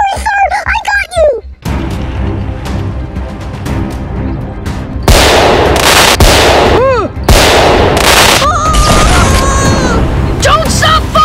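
Rapid gunfire and heavy booms from a war movie battle scene, with loud bursts of shots and explosive impacts running throughout, while shouting voices mix in over the chaos.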